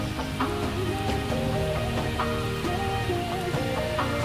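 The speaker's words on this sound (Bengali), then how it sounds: "বৃষ্টি পড়ছে" Steady rain falls around an outdoor meal at a hillside cottage in Kakrajhor, a dense, even patter that stays constant throughout, with faint tonal sounds in the background.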